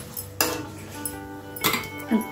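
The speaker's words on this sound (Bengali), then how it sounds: "ঢাকনাটা আমি তুলে দিচ্ছি" Metal lid clanking as it is lifted off a pot of boiling jackfruit seeds, two or three sharp close clinks and scrapes of metal on metal, no voice.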